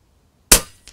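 An FX airgun fires a single sharp shot over a pocket chronograph, a hard crack that decays quickly, followed by a faint second tick.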